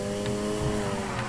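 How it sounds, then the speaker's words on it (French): Car drifting in the Need for Speed Heat racing game, with a sustained, high tire squeal over a steady engine tone, loud and continuous through the short moment. "Il faut que le drift dure plus longtemps."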